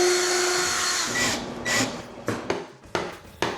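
Power drill boring screw holes during cake-stand assembly: a steady high whine that cuts out, followed by several short sharp bursts as the bit starts and stops, close by with no talk.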